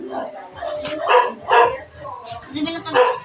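A pet dog gives several short, close barks and yips at a steady pace, with people talking nearby.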